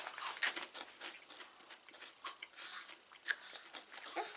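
Crunchy baked salted pretzel sticks bitten and chewed close up, with sharp crisp snaps followed by a steady run of brittle crunching and softer grinding, no talking.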